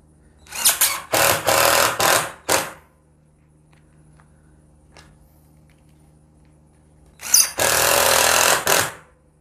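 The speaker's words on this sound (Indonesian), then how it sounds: "Enak banget untuk multiplex ini ya, sangat cocok penggunaan impact driver 12 volt." A 12 volt Mollar impact driver drives screws into plywood, with two loud close bursts of rapid hammering rattle, separated by a quiet pause.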